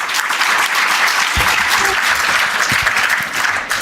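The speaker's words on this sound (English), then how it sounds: "Can we have a huge round of applause for Gayatri ma'am, please?" Sustained applause from an audience for a panelist at an HR leadership summit, steady and fairly loud throughout, with a few louder individual claps near the front and no speech.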